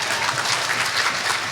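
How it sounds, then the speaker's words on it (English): A large audience at the Prime Minister's New Year gathering breaks into applause, a dense and fairly loud burst of many hands clapping together with no voices on top. "Give her a round of applause."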